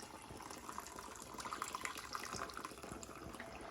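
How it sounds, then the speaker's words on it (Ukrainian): Steady stream of hot water pouring and splashing into a metal pot holding canning jars, continuous and close, with faint clinks and no voices. "ставимо баночки і наливаємо сюди гарячу воду"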